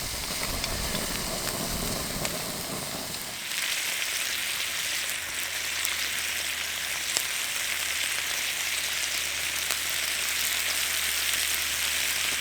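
Food sizzles in a pan on a Trangia Mini camping stove, a steady close frying hiss that brightens after a few seconds, with a low burner roar underneath.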